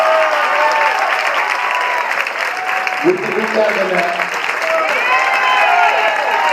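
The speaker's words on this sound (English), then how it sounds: "Let's give these young people a huge round of applause." An audience at a high school academic success celebration claps loudly and continuously while someone speaks over the applause through a microphone.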